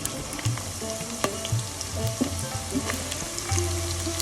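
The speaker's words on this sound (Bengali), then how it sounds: "তেলের সাথে আমি গরম মশলাটা একটু ভেজে নিব।" Garam masala and paste fry in hot oil for a mutton bhuna, giving a steady close sizzle with scattered crackles and occasional stirring scrapes.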